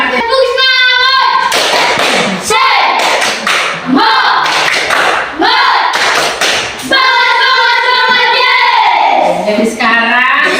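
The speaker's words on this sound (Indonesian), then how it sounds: "Tepuk semangat dulu untuk kelas 4 ya." A Grade 4 classroom of children doing a rhythmic 'tepuk semangat' class clap, with sharp, close clap bursts interleaved with loud chanted voices throughout.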